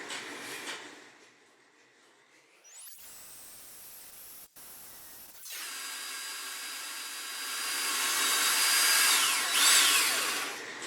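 A power drill spins up to a high whine as it bores holes into the bottom of a plastic container, running in a few sustained bursts with brief pauses between them and growing louder toward the end.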